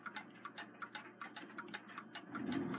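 Escapement of an American eight-day Waterbury triple-decker chiming clock movement ticks in a quick, even rhythm, crisp and close, with a brief soft thump near the end.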